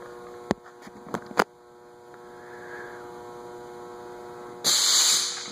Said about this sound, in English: That's the air compressor discharging.